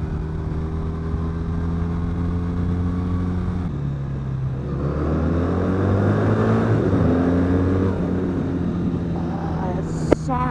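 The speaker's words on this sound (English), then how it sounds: "It's this low, purry, just happy engine." Triumph Brooklands Bonneville café racer motorcycle engine idling with a low, steady, purring drone throughout, rising slightly in the middle, heard close and continuous with a short sharp click near the end.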